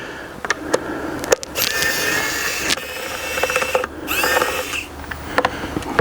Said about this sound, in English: we're gonna undo all the screws real quick